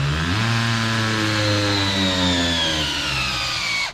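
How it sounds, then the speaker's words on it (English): An electric drill drives a cone log splitter auger into a piece of wood, a loud steady motor whine whose pitch sags slowly under load before it cuts off abruptly at the end. "And I can't hold the drill good enough to cut the thing."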